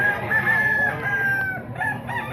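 Nine-month-old Boston Roundhead rooster crowing once, close and clear, a drawn-out cock-a-doodle-doo with a short tail note near the end, amid a low murmur of market background.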